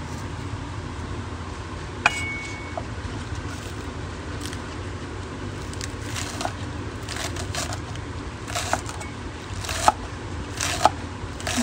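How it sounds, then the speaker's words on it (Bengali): A knife chops spring onion greens into small pieces on a board, a low steady background rumble with faint scattered soft cuts and a few brighter clicks, close but quiet. "পেঁয়াজ পাতাগুলো আমি এরকম ছোট ছোট করে কেটে নেব।"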